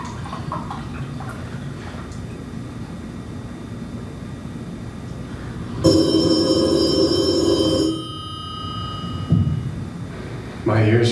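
A telephone rings on stage during a live play, one bright, buzzing ring burst of about two seconds rising over a hum of room noise, with voices around it.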